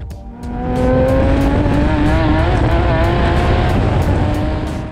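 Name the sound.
Z1 Motorsports Nissan Z race cars on track at Talladega Grand Prix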